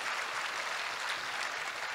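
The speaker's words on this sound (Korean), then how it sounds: "다시 한번 그라시아스 합창단에게 큰 박수 보내주시기 바랍니다" Congregation at an Easter dawn church service applauding a choir, a soft, even wash of clapping that sounds fairly distant and blends into a steady hiss.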